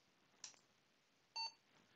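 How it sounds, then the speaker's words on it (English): A short electronic beep from an Apple II computer, then a brighter, louder tone a second later, both brief and clean against a faint background hiss. "So we hear a beep. That's what this routine does."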